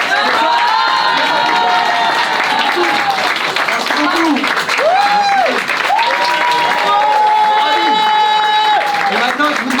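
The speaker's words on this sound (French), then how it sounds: "faites un tonnerre d'applaudissements" A theater audience breaks into loud applause and cheering after a magic card trick on stage, with many hands clapping, whoops and shrill children's shouts swelling and falling, near and continuous throughout.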